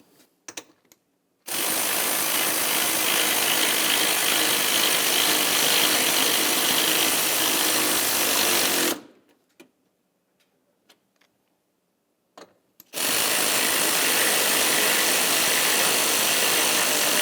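Ratchet snugging two 10mm-headed mounting bolts on a 1999-2006 Chevrolet Silverado engine, giving long loud runs of continuous clicking in two bursts separated by a few seconds of near silence, with no talk.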